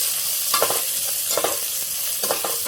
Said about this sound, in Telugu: జీలకర్ర, చిన్న ఎల్లిపాయలు ఒక చిన్న గట్టలు 4, కొద్దిగా 2 రెబ్బల చింతపండు మొత్తం వేసి ఇలా కలుపుకోవాలి